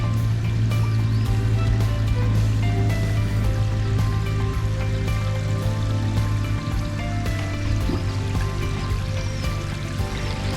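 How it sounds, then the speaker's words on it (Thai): Strong, fast-flowing clear water rushing through a small drainage channel beside a walking path at a Japanese temple garden with old mushroom-shaped pines, a steady, loud, close wash that continues throughout without talk. "น้ำไหลแรงมากและน้ำก็ใสมากด้วยนะ"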